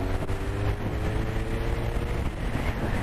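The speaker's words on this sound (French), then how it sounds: "on va faire une accélération à fond" Suzuki GSX 1200 Inazuma motorcycle under full-throttle acceleration, a steady, loud engine drone with low rumble and rising harmonics, heavy wind-like roar throughout.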